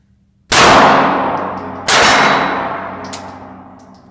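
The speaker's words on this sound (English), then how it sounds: "LCP 380 shooting ball ammo versus the Glock 43." Two sharp, loud gunshots from a Ruger LCP .380 pistol firing ball ammunition, about 1.4 seconds apart, each with a bright crack and a long ringing decay, heard close with no talk.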